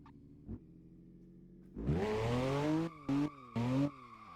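A BMW E92 in Assetto Corsa idles low, then revs up and squeals its tires in a drift on a mountain road, with loud screeching bursts that cut in and out three times.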